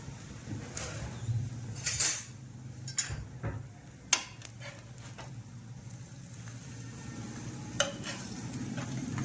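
Pav bread toasting in ghee on a flat pan for masala pav: a soft, steady sizzle with a few scraping and stirring clicks and taps close by.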